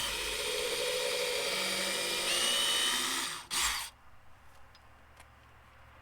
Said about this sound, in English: I'm going to drill a pilot hole with a 3/16 drill bit.